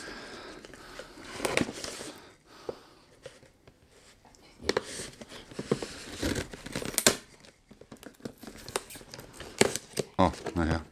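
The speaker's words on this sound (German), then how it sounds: "Da geht eher die Pappe ab als die Klebedinger." Cardboard packaging of a Snakebyte PC Head Set PRO gaming headset being torn open, with bursts of ripping and crinkling close by, interspersed with someone talking.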